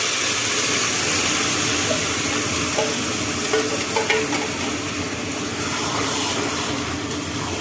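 Dried lote fish poured slowly into hot oil tempered with a bay leaf, a loud continuous broadband sizzle filling the whole stretch with faint spoon clinks over it.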